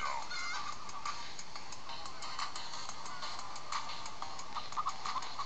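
Chickens cluck in the Minecraft Story Mode video game, a steady flock chatter with scattered short clucks that stays fairly quiet and continuous throughout, with no talking.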